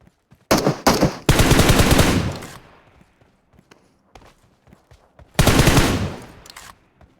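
Loud, close automatic gunfire in PUBG Mobile: a couple of short bursts and then a long sustained burst. After a quiet stretch with faint footsteps, another long burst follows.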